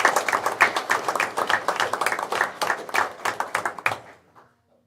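A room of people claps for retirees at a school board meeting, steady rhythmic applause close by that fades out toward the end.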